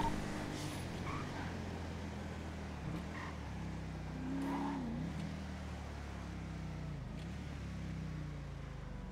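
A car in a GTA roleplay game pulls up with a steady engine drone and a brief rising rev midway, under faint background game noise.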